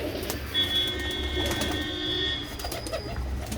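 Pigeons coo in a backyard loft holding a couple of breeding pairs, a soft, steady low warble running throughout with a faint whistling tone layered over it for a few seconds.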